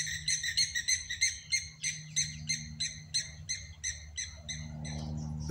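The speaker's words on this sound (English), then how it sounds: "That was three blacksmith plovers flying overhead." Three blacksmith plovers flying overhead give loud, sharp metallic calls in a rapid rhythmic series, about a dozen clinking notes before fading into a low rumble.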